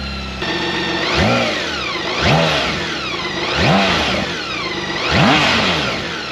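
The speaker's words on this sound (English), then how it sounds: "so sound test of the BMW K1600 GT." A BMW K1600 GT motorcycle engine is revved four times in succession, each blip rising sharply then falling back to a steady idle, loud and close with a slight whine to the exhaust note and no talk.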